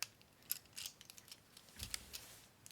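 Transformers toy feet joints pushed together until they lock, a few faint, soft plastic clicks and small handling taps, quiet and close.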